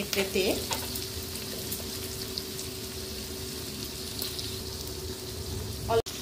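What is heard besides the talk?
onion and capsicum frying in pan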